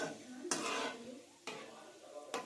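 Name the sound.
fenugreek seeds stirred and roasting in a pan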